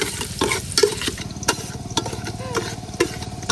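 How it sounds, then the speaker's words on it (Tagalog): Meat sautéed with garlic and onion in a pan, a loud steady sizzle with rhythmic spatula scrapes and taps, a low engine-like hum beneath, and faint talking in the background. "gigisa na tayo ng ating karne"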